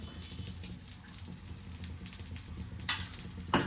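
Puran poli fries in ghee on a hot pan with a steady, fairly quiet sizzle and a few sharper crackles near the end.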